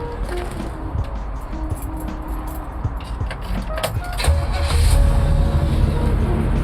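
A 1965 Chevrolet Impala engine cranks and catches, its low rumble rising into a louder steady idle, close by with a faint mechanical clatter.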